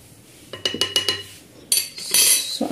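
A spoon clinks and scrapes around a bowl as gram flour batter is stirred with turmeric and baking powder for pakoras: a quick run of close metallic taps, then brighter clattering scrapes, with no talk.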